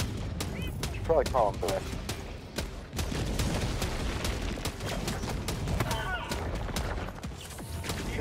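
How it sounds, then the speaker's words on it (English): Napalm strike bombardment in an online shooter video game: a dense run of booming blasts and crackling fire rolls on under a short spoken line. "We both use napalm strike."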